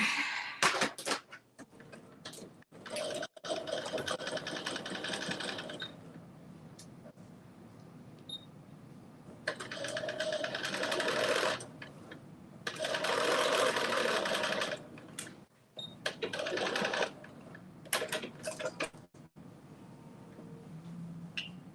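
Home sewing machine stitching in bursts of several seconds each, with short pauses between runs, close and fairly loud during a sew-along session.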